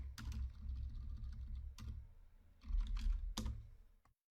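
Code being typed on a computer keyboard, soft close key clicks in a few small bursts separated by pauses, quiet and without any voice.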